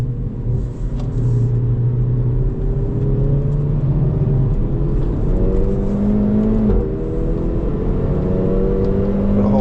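2025 Hyundai i30 N turbo engine at full effort on a race track, a loud, steady in-car drone with pitch rising through the gears and dropping at each shift, without talking.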